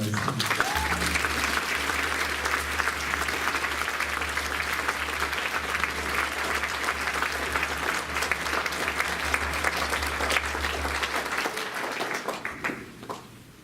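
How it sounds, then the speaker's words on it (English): Audience applause at a totem pole raising in Alaska, a sustained round of crowd clapping from many hands that continues steadily and tapers off at the end, with a low background hum. "I'd like for you to give them a round of applause."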